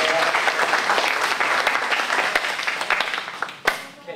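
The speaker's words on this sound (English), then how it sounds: "Big round of applause for Art Lee, everybody." Audience applause for a speaker at a debate event, dense clapping from a room full of people that stays loud and steady for about four seconds before thinning out.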